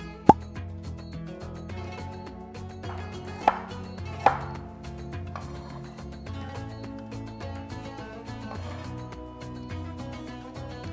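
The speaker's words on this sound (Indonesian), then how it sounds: "Kita masukkan ke dalam chopper. Kemudian ada jahe." A food chopper working on fresh ginger for a jengkol rendang spice paste: a few sharp clicks and knocks over a sustained tonal hum, moderately quiet and without speech.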